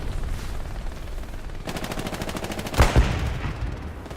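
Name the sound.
machine gun fire in the video game Hell Let Loose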